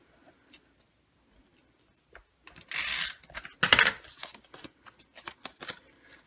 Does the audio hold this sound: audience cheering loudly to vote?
no